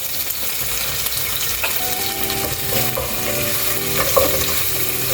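Onion, green chilli and curry leaves sautéing in oil make a constant close-up sizzle with occasional stirring knocks, holding an even level for about five seconds.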